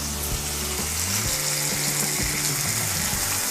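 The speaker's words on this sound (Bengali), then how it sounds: "সমস্ত সবজিগুলো মিশিয়ে নিয়ে হালকা একটু ভেজে নেব।" Vegetables and green chilies fry in a pan with a steady, close sizzle that stays loud and even throughout, with no talking.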